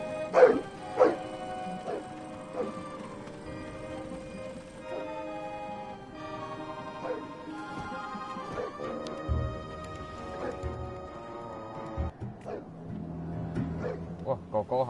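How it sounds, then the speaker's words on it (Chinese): Dogs barking and yipping in the video game Syberia 3, short sharp barks repeating at irregular intervals over a soft musical game backdrop, with a voice talking at times. "狗狗跑出来"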